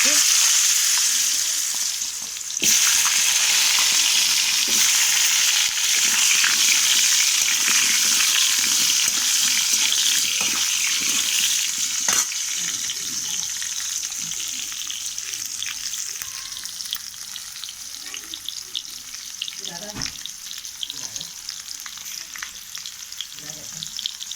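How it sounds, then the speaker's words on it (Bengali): Potatoes fry in hot oil with a loud, continuous sizzle and crackle that briefly drops near the start, then settles into a steady hiss, easing slightly later, with occasional clinks. "এবার আলুগুলো দিয়ে দেবো চলো এবার আলুগুলো দিয়ে নিই আলুগুলো ভেজে নিই"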